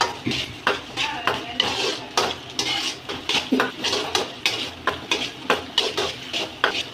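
Chicken curry masala being sautéed in a pan: a steady rhythm of metal spoon scrapes and clinks against the pan, repeating roughly every half second, with a soft sizzle underneath.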